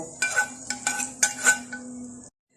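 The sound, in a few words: fried onions with mustard oil poured and stirred into beef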